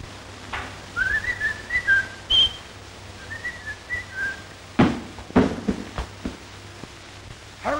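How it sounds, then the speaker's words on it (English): Several short tonal whistles from a person, a rising call pattern repeated twice, heard fairly close in a quiet room with a few soft thumps and bumps near the end, in a 1933 American musical short. "Remember, not a move till you hear the whistle."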